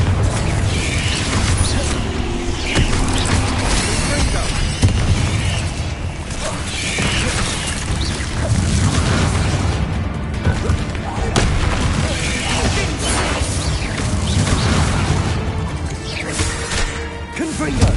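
Confringo explosive spell blasts in Hogwarts Legacy, a continuous barrage of loud booms, crashes and bursts in heavy spell combat, with a voice shouting under the din.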